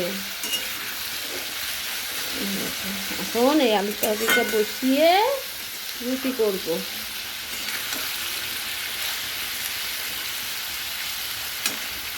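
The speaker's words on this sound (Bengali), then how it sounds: "আলুর তরকারি করবো বলে আলু ভাজা করছি" Potatoes frying in a pan for a potato curry give a steady, moderately loud sizzling hiss throughout, with a few brief chirpy tonal sounds rising over it in the middle.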